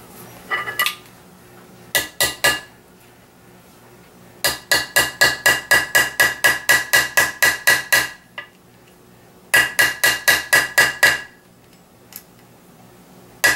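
A metal snap setting tool is struck with a hammer on a small anvil, giving sharp, loud, close metallic clinks in quick rhythmic bursts of about a dozen blows, separated by short pauses.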